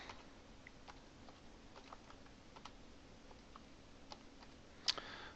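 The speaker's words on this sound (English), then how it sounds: "I'm going to type in my mobile number." Soft, irregular keyboard typing, a run of light clicks and taps at close range with one sharper click near the end, no voices.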